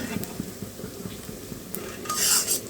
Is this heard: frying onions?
yes